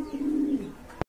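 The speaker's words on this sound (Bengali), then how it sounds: "এখানে কিন্তু আর এক জোড়া গ্রিজেল আছে, খুবই চমৎকার কবুতর দেখতে পাচ্ছেন" A pair of grizzle pigeons gives a single low, throaty coo lasting about half a second, close by and clear, with a brief sharp knock just after.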